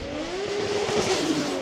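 Nissan S15 Silvia with a big-turbo RB25 engine pulling at roughly half throttle, a steady rising engine tone with turbo whine, heard from inside the car for a short continuous stretch.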